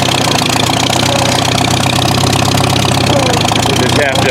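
Farmall tractor engine idling steadily at close range, a continuous loud mechanical rumble with a light knocking pulse, ending in a brief clunk near the close.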